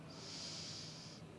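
Steady breath drawn in during a mat Pilates class, a single smooth hissing inhale lasting just over a second, close and fairly quiet, with no talking.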